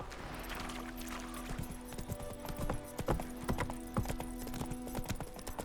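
Roach the horse galloping in The Witcher 3 video game, a steady run of hoofbeat clip-clops over a continuous noisy background, with no talking.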